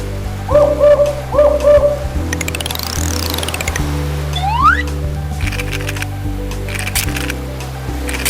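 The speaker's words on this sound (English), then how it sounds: "Owl." Owl call from a bird puzzle video game: soft cooing hoots repeat at the start over looping game music, followed by sweeping chimes and effect tones.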